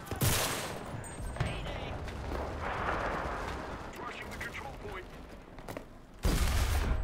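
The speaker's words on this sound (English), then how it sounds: "Fucking losers with their fully automatic weapons." Automatic weapon fire from the WWII shooter game Enlisted, a dense rattling fusillade with heavy bursts at the start and end of the stretch and steady battle noise between, loud and close.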